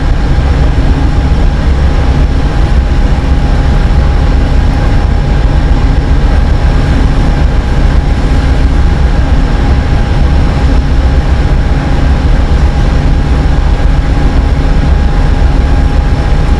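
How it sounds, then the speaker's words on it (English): An Amtrak Dash 8 Phase 3 locomotive, number 160, runs at trackside with a Silver Meteor train, a loud steady rumble and roar with a sustained tonal hum that lasts throughout. "Amtrak 160 is a Dash 8 Phase 3."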